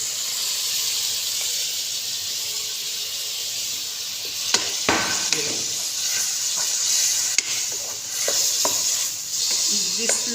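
Tomatoes and spices stirred into sizzling beef karahi, a steady bright hiss of frying broken by scraping stirs and a few sharp clatters, loud and close with no talk.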